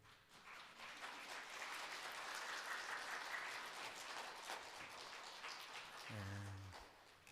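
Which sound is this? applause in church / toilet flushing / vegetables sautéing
applause in church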